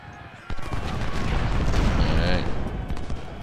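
Massed musket volleys from Civil War infantry in the Ultimate General battle rattle into a dense, moderately distant crackle that starts abruptly and carries on steadily, under a speaking voice.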